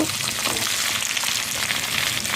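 Vegetables sizzle in hot oil in a pan with green chilies and tempering spices, a dense, steady crackling hiss heard up close and fairly loud throughout, with no voices.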